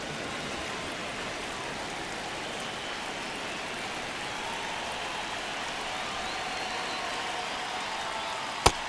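Stadium crowd noise in a baseball game, MLB The Show, a steady hissing wash of distant murmuring fans throughout, with one sharp crack near the end and no talk.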